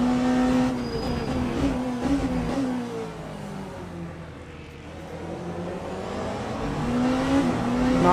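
Race car engines in Le Mans Ultimate at the COTA circuit, including a Ferrari and a Peugeot prototype, roar steadily and loudly, with revving shifts, passing engines and a light tire squeal, and nobody talks over them.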